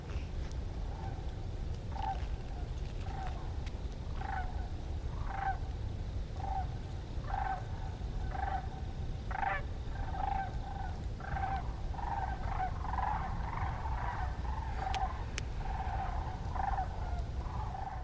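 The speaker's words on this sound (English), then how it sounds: "Hundreds of sandhill cranes." A large flock of sandhill cranes calls with repeated rolling, trumpeting notes in a loose, overlapping rhythm. The calls sound distant over a steady low outdoor rumble.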